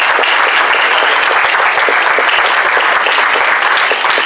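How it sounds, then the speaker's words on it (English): A convention audience breaks into loud, dense applause at a voice-acting panel, a continuous roar of many hands clapping close and full for several seconds with no talk over it. "Give me a round of applause"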